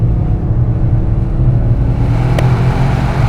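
A 2025 Toyota GR Yaris with automatic transmission accelerating out of a corner on the Nürburgring Nordschleife, its engine note a steady loud drone from inside the car, with a brief sharp click near the end.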